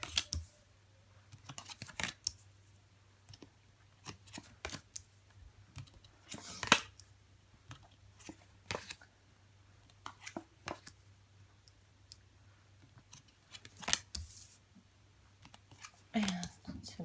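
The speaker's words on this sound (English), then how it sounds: "And let's get these cards out." Tarot cards being handled and shuffled up close, with scattered crisp snaps and riffling bursts at irregular intervals over a low steady hum.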